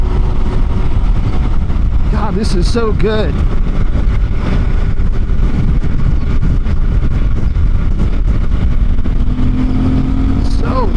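A Suzuki GSX-8R motorcycle engine pulls hard through quick-shifter upshifts, a loud continuous drone with brief rising pitch sweeps, while the rider talks over it.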